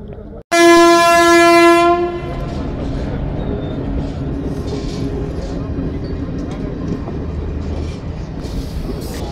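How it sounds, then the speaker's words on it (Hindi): A passenger train bound for Bareilly passes a level crossing in Uttarakhand, its horn blaring loudly for about a second and a half before the steady rumble and rattle of the passing wagons carries on. "हाँ, ये बरेली वाली ट्रेन है।"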